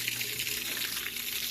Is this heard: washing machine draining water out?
yes